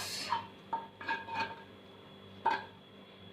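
A spoon clinks against a bowl while soya chunks, grated Amul cheese and other ingredients are stirred together, giving a few sparse, close metallic taps spread over a quiet kitchen background.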